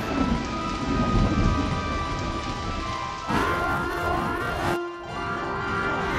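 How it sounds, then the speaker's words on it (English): Rain falling at a bus stop, a dense steady patter close by, with deep rumbles of thunder and a brief passing vehicle-like sweep partway through. "now it starts to rain"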